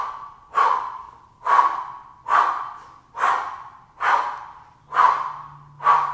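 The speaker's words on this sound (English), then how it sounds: "And let's do our double Pilates exhale breath." Seven sharp, forceful exhales during a hard-core Pilates workout, evenly spaced about once a second, each a breathy rush that starts strong and trails off, close to the mic with no talking.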